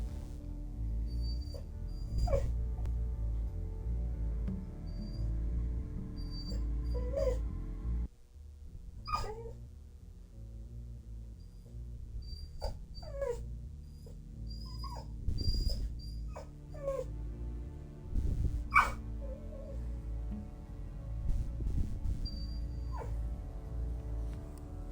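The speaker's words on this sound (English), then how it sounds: "Sorry if you can hear the dog in the background." A dog whimpers and yips intermittently in a room where the Batman Telltale Series game is being played. High, thin whines recur throughout over a steady low hum.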